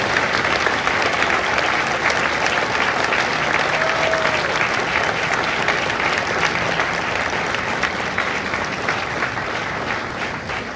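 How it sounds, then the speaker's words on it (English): Loud, sustained applause from a large audience honoring Marine veterans at a recruit graduation ceremony at MCRD San Diego, a thick continuous roar of clapping that only begins to ease near the end. "Ladies and gentlemen, a round of applause for their dedicated service to Corps and country."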